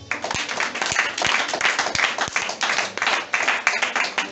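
A church congregation claps and applauds during a worship service. Dense, rhythmic clapping runs close and loud throughout, with a steady beat and crowd noise mixed in.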